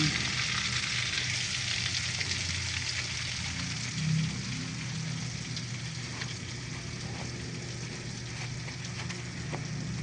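Bangus (milkfish) steak pieces frying in hot oil, a steady close sizzle with crackling pops running throughout at an even level.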